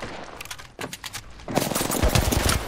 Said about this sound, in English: I was shooting you.